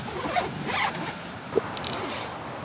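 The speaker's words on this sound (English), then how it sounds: "we'll zip the tent up" A tent zipper being drawn shut at a car-camping glamping setup in the rain, heard as a couple of quick rasping pulls close by, with faint background patter and no talk.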